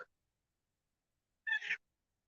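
A single clear cat meow rises out of near silence, close and moderately loud, lasting about a third of a second; no purring is evident.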